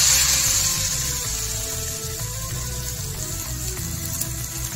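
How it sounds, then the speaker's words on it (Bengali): Gokul pitha dumplings fry in hot oil, giving a steady, close bubbling sizzle with a brighter hiss at the start that settles to an even simmer, with no voices. "গরম হয়ে যাওয়া তেলের মধ্যে ফ্রাই করার জন্য পিঠাটাকে দিয়ে দিচ্ছি।"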